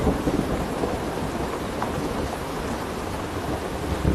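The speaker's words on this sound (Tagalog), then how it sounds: "Di nagtagal, dumating na ang tag-ulan." Steady heavy rain pours throughout, with low rumbling thunder rolling underneath; a continuous, dense wash of sound with no pauses.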